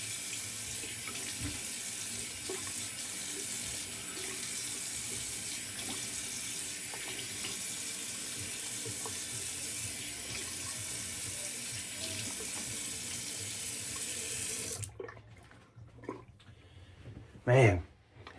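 A bathroom tap runs steadily for a cold water rinse after a wet shave, a close, even splashing stream that lasts about fifteen seconds before shutting off. Someone talks briefly over the quiet that follows.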